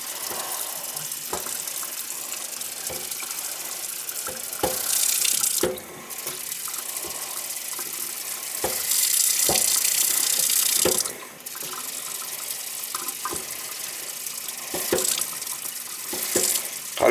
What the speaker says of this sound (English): These faucets are known to be wimpy flows.